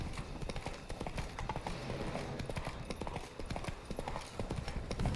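Roach the horse gallops in The Witcher 3: Blood and Wine, with rapid, continuous close hoofbeats in an even rhythm throughout and a faint voice underneath.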